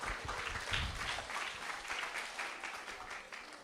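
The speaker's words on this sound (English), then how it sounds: "Big round of applause for our sister." A small audience at a morning summer gathering applauds, giving a round of applause for a woman in the group. The clapping is steady and dense, moderately loud, and lasts a few seconds with no talk over it.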